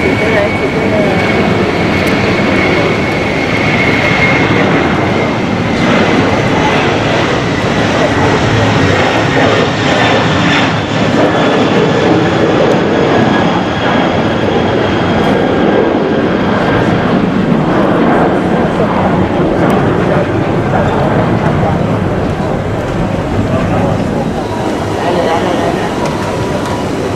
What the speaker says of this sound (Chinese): 起飞了，起飞了！